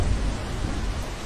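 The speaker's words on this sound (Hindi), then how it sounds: "उसी दिन शाम को तेज बारिश फिर से शुरू हो गई।" Heavy cartoon rain pours steadily as a dense, continuous wash, with low thunder rumbling underneath throughout; loud and close, no voices.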